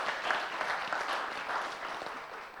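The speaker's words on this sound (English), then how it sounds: "Give applause." Steady applause from a conference audience at a university event fills the whole stretch, dense and even with no single claps standing out.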